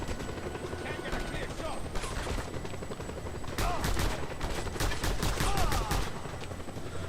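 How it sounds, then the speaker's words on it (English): A helicopter in the Just Cause 2 video game drones with rotor chop alongside bursts of rapid gunfire and sharp explosive cracks. A voice talks over the mix throughout. "Alright, now we have a helicopter."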